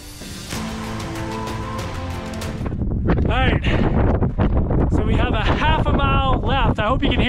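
Strong wind gusting across a mountainside near the top of a Colorado hike, roaring and buffeting the microphone continuously while a person talks over it for much of the time.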